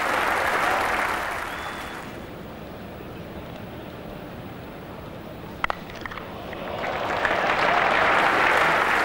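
A cricket crowd at a 1990 England test match applauds a shot. Loud clapping swells at the start, fades to a lower murmur through the middle, then builds again into a strong burst of applause at the end.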